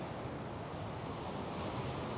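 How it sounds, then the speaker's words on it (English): Ocean waves break on the shore as a soft, steady wash of surf, faint and unbroken, with no voices. "Do you see the waves? Aren't they pretty?"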